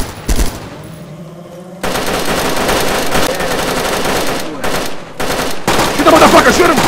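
Loud automatic gunfire in STALKER roleplay game combat comes in dense, rapid bursts with brief gaps between volleys, and voices can be heard faintly in the mix.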